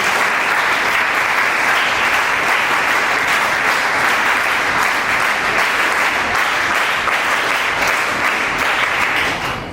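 Loud, sustained applause fills a ceremony hall as an audience claps steadily and densely from start to finish, tapering only at the very end.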